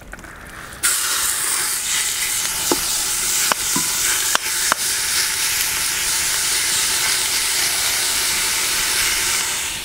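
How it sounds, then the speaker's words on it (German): Gyros meat sizzles and fries in oil inside a cast-iron Dutch oven (potjie), a steady loud hiss after the meat drops in, with a few brief clicks and stirring scrapes over it. "dass wir unser Gyros hier anbraten werden"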